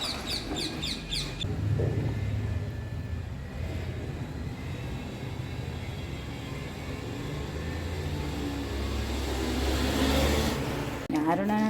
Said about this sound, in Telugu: ఇక్కడ రామచిలికలు కూర్చున్నాయి